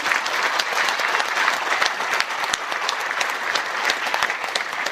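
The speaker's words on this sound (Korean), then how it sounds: "우리 함께 해주신 우리 두 어머니께 큰 박수 좀 부탁드리겠습니다" A hall audience at a talk gives a big round of applause for two mothers, dense steady clapping close and loud for the whole stretch.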